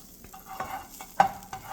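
Butter melting and sizzling in a warming clean skillet, with soft intermittent crackles and a few brief scraping or stirring taps from a spatula, quiet and close with no talk.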